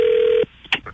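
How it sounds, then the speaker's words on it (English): Telephone call being placed, with one short steady tone that cuts off, followed by a brief chirp of a ring signal. "today we're going to be picking up the phone and calling a guy named Chuck who works at a tire store"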